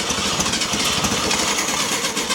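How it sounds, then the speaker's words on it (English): A Volkswagen Beetle engine being revived sputters briefly, giving a rough, loud mechanical churning that sounds close and stays continuous for a couple of seconds. "So we're hoping for a sputter. Are you ready? There's a sputter."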